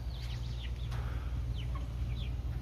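A backyard hen gives a handful of short, faint clucks over a steady low background hum, the calls scattered irregularly and sounding somewhat distant.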